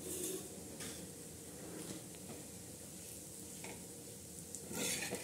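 Salted peanuts being roasted on a hot tava for chutney, spread and stirred with a spatula in intermittent scrapes and taps over a low steady hiss, with no one talking.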